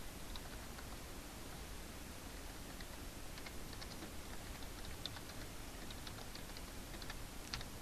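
Faint keystrokes on a computer keyboard typing out a folder name in Windows, scattered soft clicks over steady background hiss, no speech.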